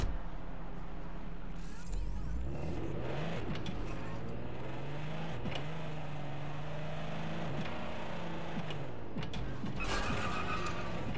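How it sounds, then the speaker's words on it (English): A car engine in Watch Dogs: Legion revs up through manual gear changes, its pitch climbing and dropping several times with each shift, steady and prominent under faint game ambience. "they actually added in like the manual sounds for these cars"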